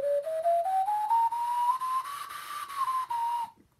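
An Aketa alto C ocarina plays a rising run of high notes, clear and breathy, stepping upward then holding and dipping slightly before stopping abruptly, solo and close.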